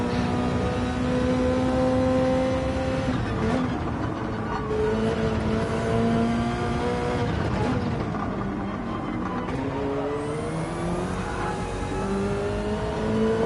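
Subaru BRZ Gr.3 race car engine in Gran Turismo at Road Atlanta, a steady high revving drone with rising and falling pitch as it shifts, loud and continuous with no talk.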